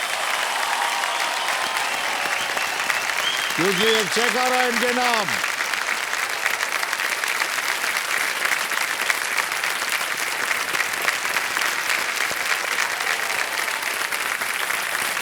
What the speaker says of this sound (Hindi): जोरदार तालियां बज जाए इनके